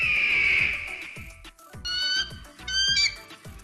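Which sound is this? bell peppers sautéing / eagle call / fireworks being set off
eagle call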